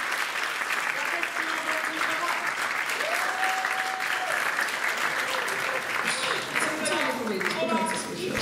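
Audience applause for a singer named Ola at a Christmas charity concert, sustained dense clapping filling the room throughout, with a voice briefly audible over the clapping.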